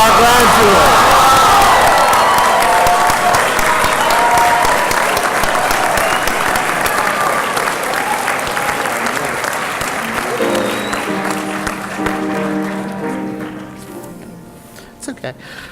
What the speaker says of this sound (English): one more heartfelt round of applause and maybe even a few hoots and hollers in recognition of our graduates